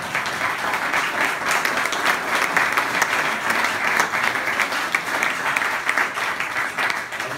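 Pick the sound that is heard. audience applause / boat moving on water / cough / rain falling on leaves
audience applause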